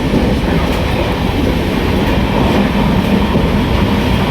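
A moving train heard from an open carriage doorway, a loud continuous rumble and rattle of wheels on rails, steady and close for the whole stretch with no talk.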